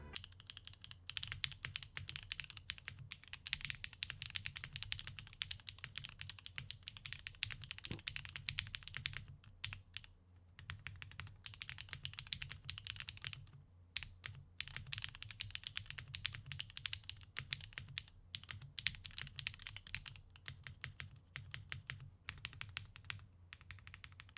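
Rapid, steady clacking of a concrete-filled mechanical keyboard being typed on, close and fairly quiet, with brief pauses between bursts of keystrokes.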